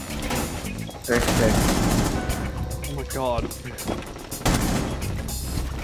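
Rapid gunfire bursts from the Rainbow Six Siege video game crackle loudly throughout, with excited voices talking and shouting over the shooting.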